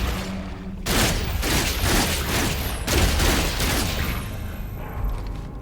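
Rapid gunfire and bullets whizzing past in No Man's Sky combat, dense bursts of loud close shots in two long volleys with a brief gap between them, no talk.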